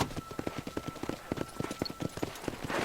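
Horse hooves clip-clop at a steady walking rhythm in the video game Red Dead Redemption (2010), close and fairly loud, with light ambient noise and no talk.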